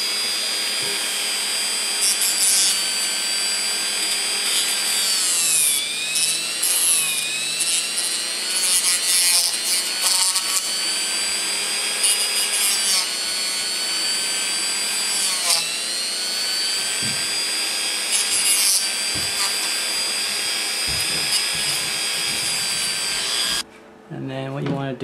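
Continuous rough sanding on the edges of a plastic SIM card, scratchy and close, with uneven strokes and squeaky tonal scrapes, stopping abruptly near the end.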